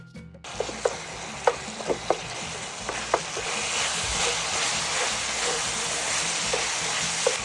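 About a pound of ground beef sizzles steadily in a hot pan while a utensil breaks it into crumbles, with sharp scraping and tapping strokes over the constant fry.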